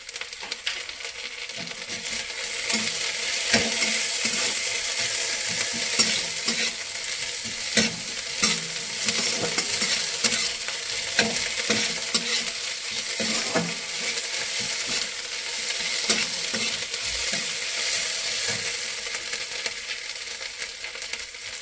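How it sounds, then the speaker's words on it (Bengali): Pointed gourd fries in a pan with a little ginger paste for an egg and pointed gourd korma, a dense steady sizzle punctuated by repeated scraping strokes of a spatula, close and fairly loud. "হালকা ভাজা ভাজা হয়ে গেছে, এবার দিয়ে দেবো অল্প আদা বাটা।"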